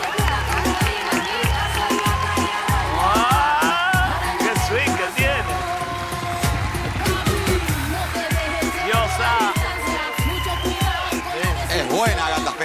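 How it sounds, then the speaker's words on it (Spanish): A TV studio audience at the masked singing show ¿Quién es la máscara? applauds and cheers a performer while loud music plays with a steady pounding beat, the crowd noise sitting partly beneath the music throughout. "Un aplauso grande para Gata Espejada."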